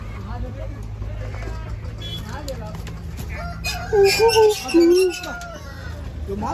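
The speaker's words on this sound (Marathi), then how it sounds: "वरचा कोंबडा रुबाबदार आहे" A handsome rooster for sale at a Marathi village market lets out a clear crow and some clucks over steady crowd noise, with people talking nearby throughout.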